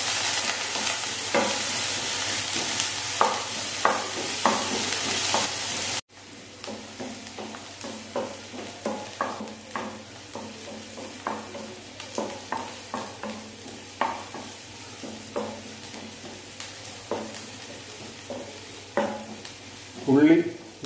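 Chili, ginger and onion fry in a pan, a loud sizzle at first that drops into a softer hiss punctuated by regular scraping stirs of a spatula, close up, with a brief clatter near the end.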